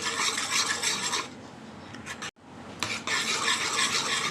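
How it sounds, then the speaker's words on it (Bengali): A hand whisk beats egg with powdered milk in a bowl, rapid scraping and clattering strokes against the sides, loud and close, pausing briefly midway before resuming. "একটা হ্যান্ড উইক্স দিয়ে ভালো করে ডিম আর দুধ গুঁড়ো দুধটা আমি ফেটে নিচ্ছি"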